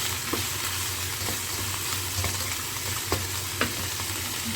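Fresh garlic fries in a pan with a dense, continuous crackling sizzle, steady and close throughout, with a few faint clicks from stirring.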